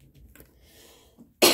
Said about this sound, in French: J'ai vraiment de la difficulté à faire un tirage sans tousser.